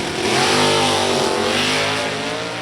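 A Pontiac Grand Am drag racing car launches hard off the line at a sportsnationals drag strip, its engine roaring loudly and climbing in pitch over a few seconds, with a second car alongside.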